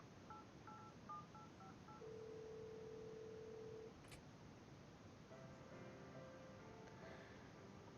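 A phone is dialed in the video game Cat President: a quick run of short keypad tones, a long steady tone, a brief chirp, then another cluster of dialing beeps, clean and fairly quiet.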